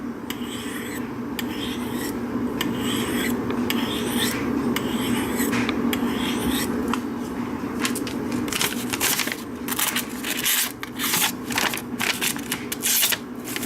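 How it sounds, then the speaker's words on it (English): A knife blade is drawn across the finishing stone of a Spyderco Sharpmaker in repeated rasping strokes, close and crisp, with a steady rhythm that quickens into shorter, scratchier passes toward the end, alone without talk. "you can just probably take it right on your finished stone"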